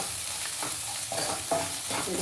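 Telangana-style dried shrimp curry is stirred in a pan, producing a steady close sizzle with a few scraping strokes over about two seconds.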